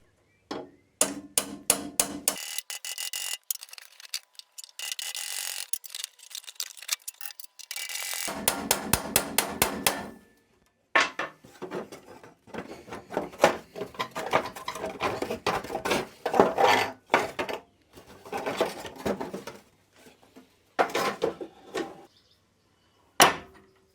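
Rivets are drilled and knocked out of a Triumph TR7 heater assembly in a workshop, making bursts of sharp, rattling metal clicks and grinding that stop and start, with short pauses between them.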